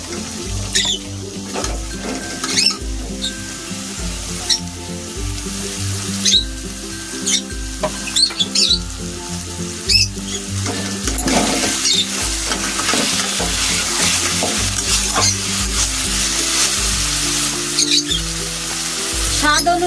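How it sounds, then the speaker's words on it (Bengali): Marinated chicken going into a pan of fried onion and tomato for capsicum chicken curry, sizzling steadily with repeated scraping stirs and clanks of the utensil throughout, close and fairly loud, with no talk. "এখন আমি মাখিয়ে রাখা চিকেনটা দিয়ে দেবো"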